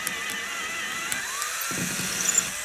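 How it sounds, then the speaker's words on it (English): A drill boring out and enlarging a hole in a piece of driftwood, a high whining bit and grinding cut with a brief pitch sweep midway, steady and close. "Drilling that guy out just a little bit bigger."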